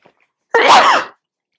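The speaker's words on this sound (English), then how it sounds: "I think I'm going to sneeze." A single loud, close sneeze bursts out suddenly from a person in a quiet room, lasting about half a second and trailing off quickly, with no talk around it.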